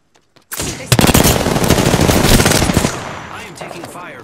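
Rapid automatic gunfire from an Apex Legends match, a loud close burst of sustained machine-gun fire with sharp repeated cracks that trails off into fading echoes.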